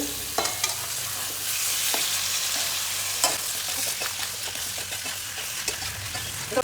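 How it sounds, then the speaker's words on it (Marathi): Chicken fry being stirred and tossed in a hot pan, with continuous sizzling and frying under repeated scraping and clinking of a spatula against the pan, close and steady throughout. "ते सर्व आता मिक्स करून घेऊ"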